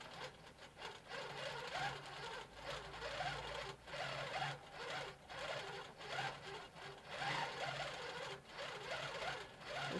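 Handi Quilter longarm quilting machine with Pro-Stitcher automation stitching a motif, a continuous fast rhythmic needle chatter with a soft motor hum, close and fairly quiet, no talking.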